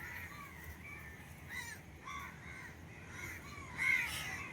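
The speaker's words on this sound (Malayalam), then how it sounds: "ആ കാക്കകളൊക്കെ പറന്നു പോയത്" Several crows caw outdoors at moderate distance, repeated harsh calls spaced through the stretch with one louder caw near the end, over a low steady background rumble.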